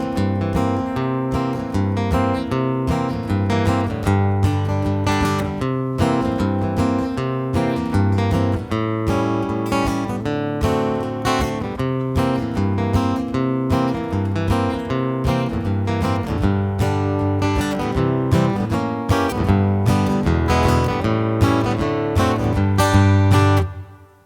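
Strummed guitar chords moving through a progression in a steady rhythm, the verse of the song, full and fairly loud, with no talking, ending abruptly.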